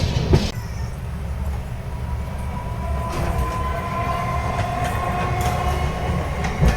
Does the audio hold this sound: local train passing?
yes